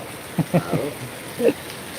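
Heavy rain falls at a church festival, a steady hiss in the background beneath nearby people talking in short bursts.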